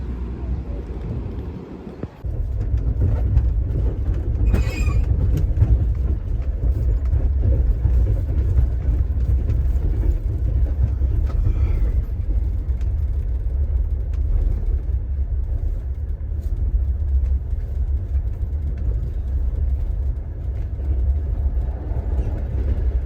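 A passenger train runs on rails with a continuous, loud, low rumble and rattling hiss that holds steady throughout, with no clear talk over it.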